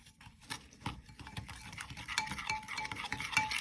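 Cake batter ingredients being mixed together for a caramel apple crunch cake, a steady close patter of a utensil stirring and tapping against a bowl, continuous and soft with occasional light clinks.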